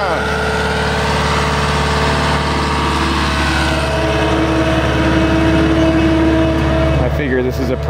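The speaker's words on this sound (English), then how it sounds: "I have a full-scale RC loader." A full-scale radio-controlled skid steer loader idles with a loud, steady diesel engine rumble, running close by without pause for several seconds.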